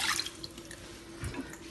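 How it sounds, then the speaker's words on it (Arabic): A glass of water poured into a saucepan in a home kitchen, a quiet brief splash and trickle of liquid hitting the pan. "في كاسرول غادي نخوي كاس الماء"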